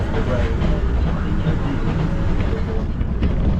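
A passenger train heading to Nairobi rumbles along steadily, a loud continuous low roar with faint rattling throughout, heard from inside the carriage.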